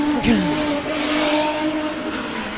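A Team Spice drift car on a handbrake entry into a corner at the Teesside British Drift Championships round, its engine roaring with tire squeal and shifting pitch nearby, while a commentator talks over it.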